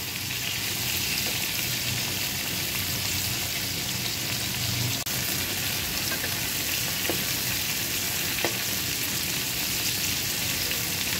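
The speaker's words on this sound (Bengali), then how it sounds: "আজকে শুধু চিংড়ি মাছ ফ্রাই করা নয়" Prawns frying in a pan make a loud, continuous sizzle and crackle, steady throughout with occasional sharper pops and soft stirring.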